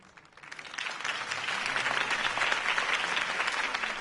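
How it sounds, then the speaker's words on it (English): Applause from a crowd at a political campaign speech in the video game Batman: The Telltale Series swells quickly from quiet to a full, steady roar of clapping that holds at a constant level. "could have heard that applause"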